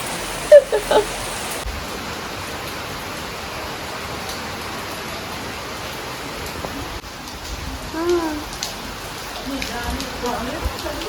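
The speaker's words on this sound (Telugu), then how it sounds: "కానీ వర్షం పడుతుంది" Steady, soft hiss of rain falling nearby, even and continuous, with a few faint knocks and a brief voice-like sound partway through.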